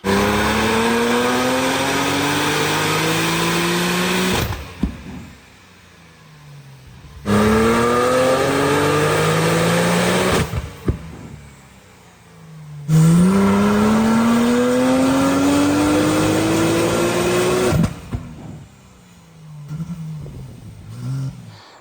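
A tuned Porsche 992 Turbo S ES950 runs on a dyno, its engine climbing loudly through three long full-throttle pulls, each cut off sharply before idling back down.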